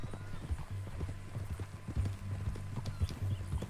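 Horse hooves clip-clop at a steady walking rhythm in Red Dead Redemption 2, close and moderately loud, with faint talk around them.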